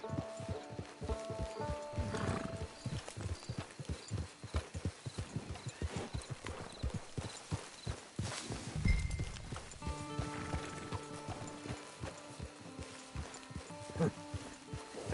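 Horse hooves clip-clop in a steady walking rhythm in Red Dead Redemption 2 Online, with an occasional snort or whinny under a voice talking.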